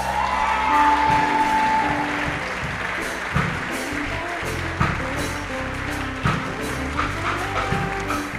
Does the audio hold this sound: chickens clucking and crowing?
no